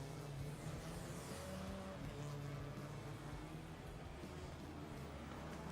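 TCR race cars on the formation lap at Rosario in TCR South America give a faint, distant, steady engine drone with no distinct pass-bys.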